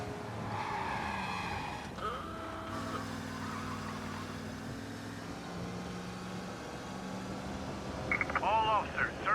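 A car driving in Mafia: Definitive Edition, engine droning steadily with tire squeal and skidding sounds, while voices talk over it throughout and a louder squeal rises at the end.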